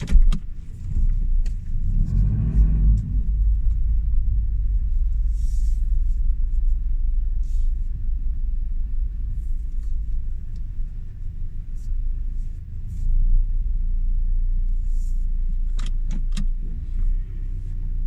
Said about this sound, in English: Gotta keep the car going because otherwise the phone might just die on us.